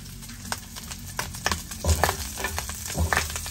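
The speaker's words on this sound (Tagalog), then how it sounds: "Tapos ito, iprito ko na to para isahan na lang" Garlic fries in a pan with a soft, crackling sizzle, and a few louder knocks and clatters from a utensil stirring against the pan.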